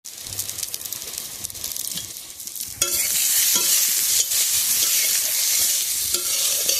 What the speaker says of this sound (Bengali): বেগুনটা ভাজা হয়ে গেছে, এখন এটা নামিয়ে নেব।